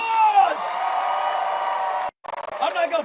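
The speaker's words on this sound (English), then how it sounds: "Give him a round of applause." Parade crowd at a men's basketball national championship celebration cheering and whooping loudly and continuously, with a brief drop to silence before the cheering swells back up.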